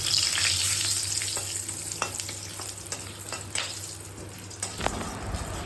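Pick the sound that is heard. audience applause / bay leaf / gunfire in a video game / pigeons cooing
bay leaf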